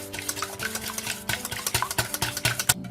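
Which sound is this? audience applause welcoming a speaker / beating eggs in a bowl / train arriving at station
beating eggs in a bowl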